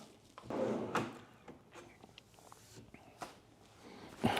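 A soft-close drawer box slides shut on its runners, a few muted thumps and soft knocks followed by a gentle final pull-in, quiet and close in a workshop.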